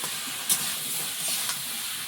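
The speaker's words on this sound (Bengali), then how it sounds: "আলুটা ভালো করে ভেজে নেব।" Potatoes and eggplant frying in a pan of cooked-down spices for a Bengali home-style dish, giving a steady, close sizzling hiss that holds evenly throughout.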